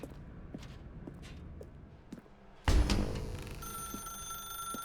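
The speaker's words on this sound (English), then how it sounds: "Now pick up the phone." Telephone in the video game The Stanley Parable starts ringing suddenly partway through, loud and sustained after quiet room tone with a few soft footsteps or creaks.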